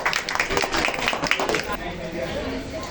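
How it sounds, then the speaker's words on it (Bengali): An audience claps for Ibrahim Khan at a 2025 Patenga zone meeting of National Life Insurance PLC. Dense, loud applause fills the first half before thinning out, with voices mixed in. "ইব্রাহিম খানের জন্য একটা হাততালি হয়ে যাক"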